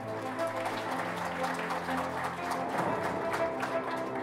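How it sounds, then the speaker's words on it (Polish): Applause from an audience at a Law and Justice party convention in Gostynin, Poland, a steady wash of clapping that stays fairly loud throughout, mixed with sustained tonal music underneath. "Wielkie brawa."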